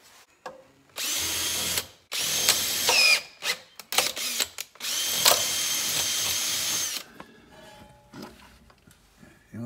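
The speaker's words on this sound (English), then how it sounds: "So I just gotta drill it through because just so everything fits properly." A power drill bores through a 420 drive chain link on a broken snowblower, running in several loud, sustained bursts of high whine separated by short pauses, with a faint mechanical clink near the end.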